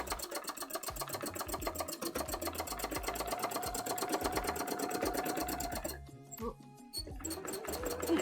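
A sewing machine stitches an embroidery panel for a cosplay costume, a steady rapid mechanical whirr close by that pauses briefly near the end before starting up again.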